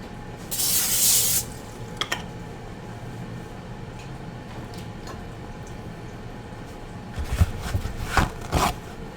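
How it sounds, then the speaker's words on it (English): Cooking spray hisses onto a baking sheet in a kitchen in one firm burst near the start, followed by quieter handling clatter and a few more short sprays and knocks toward the end. "Some spray."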